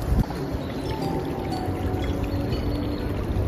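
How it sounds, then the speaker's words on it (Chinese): Clear snowmelt water flows in a mountain stream on a slope where lily of the valley is sprouting, a steady, full rushing and gurgling close by with no voices over it. "我听到流水声"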